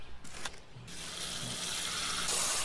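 Feeder worms are rinsed under a running tap. A few brief splashes give way to a steady, close gush of water into a sink.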